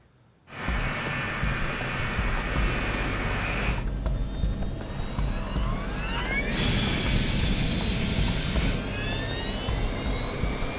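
A cargo airliner of Emery Worldwide takes off, its engines a loud, steady roar with rising whining tones that climb and restart several times, starting abruptly after a brief quiet moment; no one talks.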